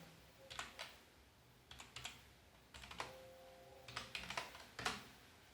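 Quiet, close computer keyboard typing in short clustered bursts of light clicks separated by pauses, with a soft mouse click or two.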